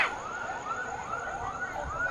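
A fire engine's siren wails with repeated rising and falling sweeps as it arrives at a night-time fire in Padang. It sounds moderately distant and steady, and no one speaks.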